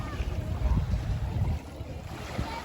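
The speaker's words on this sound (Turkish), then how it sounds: "Üç tane tur teknesi yaklaşmış oldu." Tour boats approach at sea off Marmaris, heard as a steady rumbling engine and wind-buffeted water noise, fairly loud and continuous with faint voices in the background.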